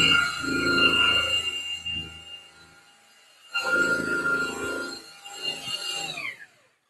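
Rotary buffer polishing clear coat on a car body panel, a steady whirring hum with a high tonal whine that runs for about two seconds, pauses, then resumes and winds down at the end.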